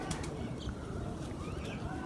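A female pure Chui breed pigeon gives soft cooing calls, quiet and close, over a low background hum with faint rustling.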